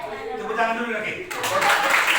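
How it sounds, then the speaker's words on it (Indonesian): A junior high school class breaks into applause after a speaking voice, the clapping swelling up about halfway through and carrying on densely to the end. "Tepuk tangan dulu lagi."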